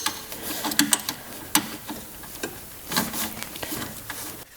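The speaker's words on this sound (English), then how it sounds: "With the 12 millimeter, I'm going to go ahead and loosen up this bolt." A 12 mm wrench loosens a bolt on an RB26DETT engine, giving quiet, irregular metallic clicks and ticks spread across a few seconds, close by with no talk.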